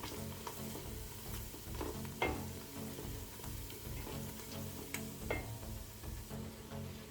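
Iru (locust beans) frying in a kale stew base, a steady close sizzle and crackle with occasional spoon scrapes and stirring knocks, faint overall and with no voices.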